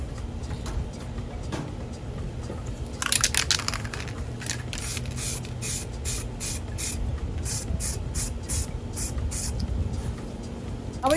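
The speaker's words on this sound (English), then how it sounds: "Spraying some up high." An aerosol can hisses in a series of short, close bursts, spraying paint onto a mirror being upcycled, with brief pauses between the sprays.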